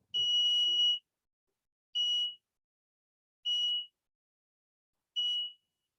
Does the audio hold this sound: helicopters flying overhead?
no